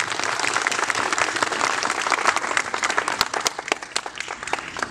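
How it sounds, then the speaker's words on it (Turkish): An audience at a school graduation ceremony applauds the teachers, a loud sustained round of clapping with individual sharp claps standing out as it thins toward the end. "Bu alkış onlar için elbette ki azdır."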